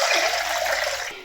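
Water poured into a cooking pot for boiling spaghetti, a brief, loud, close rush of liquid that fades out at the end.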